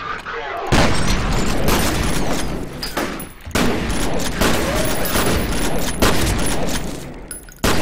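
Grenade blasts and heavy gunfire in F.E.A.R. roar almost nonstop, loud and close. Sharp booms repeat through a dense barrage, and a voice is mixed in underneath.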